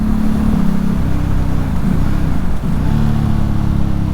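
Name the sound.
Ducati Hypermotard 1100 Evo motorcycle engine accelerating in sixth gear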